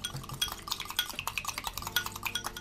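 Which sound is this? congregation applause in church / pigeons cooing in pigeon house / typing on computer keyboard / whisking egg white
whisking egg white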